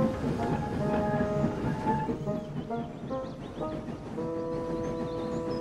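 An express train sets off and runs down the line, its rumbling wheels joined by sustained whistle-like tones that rise and shift, fairly close and prominent throughout.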